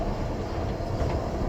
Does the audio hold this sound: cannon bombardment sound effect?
no